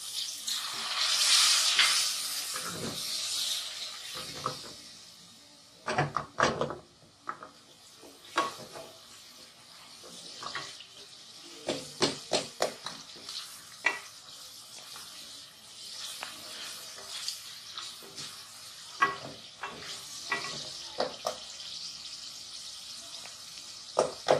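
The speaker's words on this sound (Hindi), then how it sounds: "थोड़ा सा मैं इसके अंदर पानी डालती हूँ।" Water goes into a pan of frying korma masala with cinnamon, cloves and black pepper, giving a loud hissing burst that settles into irregular sizzling, crackling and stirring scrapes, close up with no talk.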